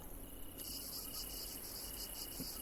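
Night insects chirp in a steady, faint chorus, a cricket-like ambience in the DinoSystem video game with a brighter pulsing trill joining partway through.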